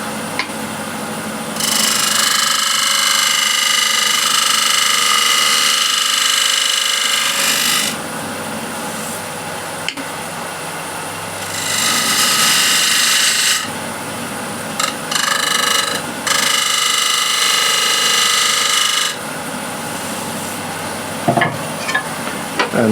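A spindle gouge cuts wood spinning on a lathe, giving a hissing, scraping rasp that comes in several long bursts separated by quieter pauses with the motor hum and occasional knocks.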